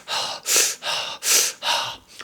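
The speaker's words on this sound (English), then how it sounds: "This is going to be some faster breathing." Fast activating Wim Hof style breathwork, in through the nose and out through the mouth: six quick, loud, close breaths in a steady rhythm, each a breathy rush, with no talking.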